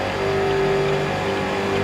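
A race car engine in iRacing drones loudly and steadily as it gains speed, a sustained tonal whine with a clear rising harmonic.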